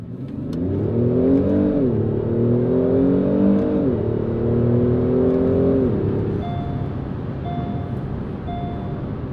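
A Kia Stinger GT pulls hard from first gear, its engine note rising loud and close through a long rev sweep, dropping briefly at a shift, climbing again, then settling into a steadier cruise hum.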